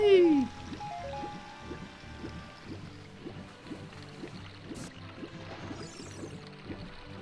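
Flowing river water in the Ocarina of Time video game, a steady wash of stream noise running through under rhythmic game music and a voice talking over it.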